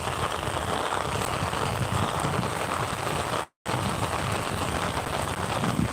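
Steady rain pours down over a village lane in Chhattisgarh, a dense, even hiss of drops on surfaces with water running through the street, continuous and close apart from one brief dropout.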